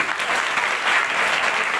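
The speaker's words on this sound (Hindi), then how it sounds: "जोरदार ताली सबसे पहले" Audience applause fills a school seminar session in Nepanagar, a steady dense clapping from a crowd held at even loudness throughout, with no talk over it.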